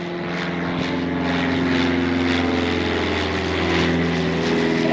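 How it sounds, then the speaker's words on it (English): A small propeller airplane flying overhead, flown by a hobbyist, makes a loud, steady droning engine roar that holds constant throughout. "I then looked this plane up and found it was just a hobbyist out of New York"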